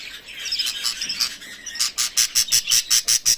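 Budgie chicks from a fresh clutch of blue, white-faced and opal pet birds give rapid high chirps, a loose twittering at first and then a steady rhythmic series of about a dozen close, fairly loud calls on their own.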